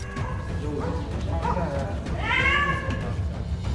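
A cat meows pleadingly for help, with several drawn-out cries, the loudest near the middle, over a steady background murmur of noise.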